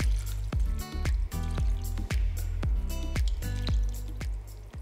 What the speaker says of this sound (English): it's time to add a couple of cups of water